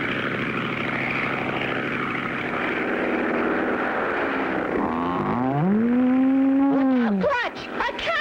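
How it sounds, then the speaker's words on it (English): Cartoon propeller airplane drones low over a field, a loud steady engine roar that swells and bends in pitch as it passes near, then cuts abruptly at the end. "We better go down and drag the field and see if it's safe to land."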